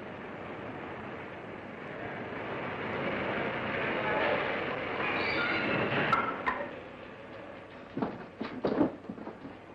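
A BMT subway train gives a rumbling, rattling ride noise that swells and fades, followed by sharper clanks and squeals near the end, with faint voices mixed in.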